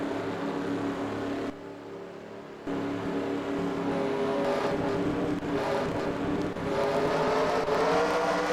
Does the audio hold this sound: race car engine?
yes